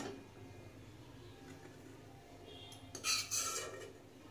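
Fried coconut scraped from a kadai onto a plate, giving a few close metallic clinks and scrapes of utensil on pan near the end over quiet room noise.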